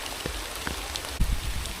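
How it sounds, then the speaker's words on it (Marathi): Heavy rain falling outdoors at a hillside stream during a monsoon downpour, a faint continuous hiss with scattered drops and a few soft knocks, fairly quiet and without talk. "लयच पाऊस आलाय."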